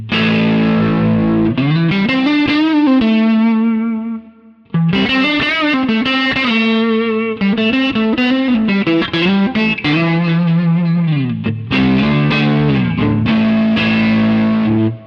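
Distorted electric guitar playing chords through a rotary speaker effect run in parallel with a dry path, swirling, warbling modulation, loud and continuous, with a brief drop-out partway through before the riff resumes.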